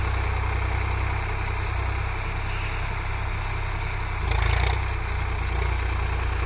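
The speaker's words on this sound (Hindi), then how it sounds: "खेत में चमकता हुआ फोर स्टार स्वराज ट्रैक्टर" A Swaraj 744 XT 52 hp tractor engine runs steadily in a field during groundnut sowing, giving a low, continuous diesel rumble with a brief swell in loudness partway through.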